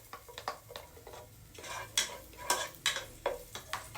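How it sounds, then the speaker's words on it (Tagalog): Garlic sautés in hot oil in a pot, a quiet sizzle under repeated scraping and stirring clinks of a utensil against the metal, coming in irregular bursts. "Gisa lang natin konti yung bawang na medyo mag-golden brown."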